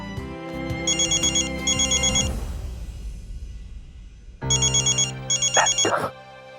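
A telephone rings with an electronic melodic ringtone in a family home: two loud bursts of repeating beeping tones separated by a short pause, with no speech over them.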